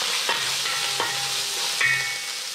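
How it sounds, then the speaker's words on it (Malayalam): Finely chopped ginger fries in a hot pan for Kerala-style puli inji, giving a soft, close sizzle with a few sharp stirring clicks over a couple of seconds. "അതൊന്ന് ചൂടായി കഴിയുമ്പോഴത്തേക്കും നമ്മൾ കൊത്തി അരിഞ്ഞ് വെച്ചിരിക്കുന്ന ഇഞ്ചി ഇതിനകത്തേക്ക് ഇടണം."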